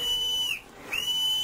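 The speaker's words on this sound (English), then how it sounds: "so in desperation I blew my whistle." A whistle blown in an audio drama gives two sharp, shrill blasts separated by a short gap, clear and fairly close against quiet background hiss.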